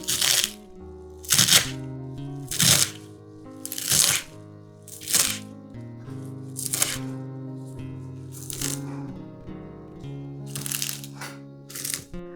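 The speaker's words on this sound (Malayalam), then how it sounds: "നമുക്ക് ഈ മല്ലിയില ചെറുതായിട്ട് കട്ട് ചെയ്യാം" A knife chops through fresh coriander leaves on a cutting board in a series of crisp, crunchy strikes spaced about a second apart, over steady background music.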